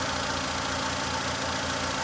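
A warm car engine idles steadily with a low, even rumble, running alone and close by while being checked for a misfire.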